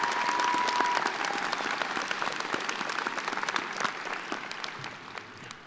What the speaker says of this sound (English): Join me in a round of applause recognizing this extraordinary group.